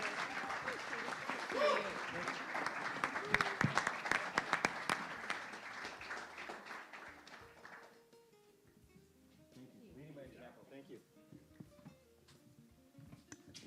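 An audience at an outdoor port event for World Ocean Day claps, a burst of applause for several seconds with scattered sharp claps, then it dies down as people talk nearby.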